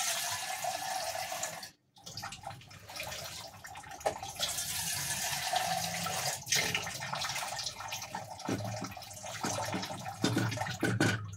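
Water runs steadily into a pot of vegetables and dal for sambar with a continuous splashing pour, briefly stopping and then resuming, close by and fairly quiet.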